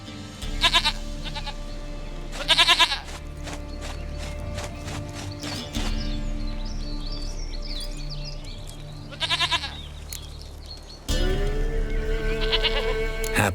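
Goat in The Witcher 3 bleats in several short, quavering bursts, loud and close, between stretches of ambient game sound and music.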